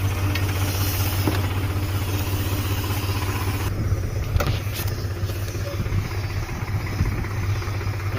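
A tractor runs steadily while spraying herbicide across a groundnut field: a continuous low engine drone with a mechanical hum, loud and close, with no talk over it.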